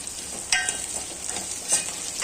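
Drumstick pods sauté with onions in a pan. A steady sizzle carries a couple of distinct scrapes of a spatula over about two seconds, close and fairly loud, with no talking.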